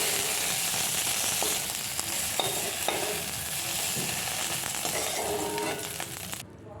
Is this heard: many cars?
no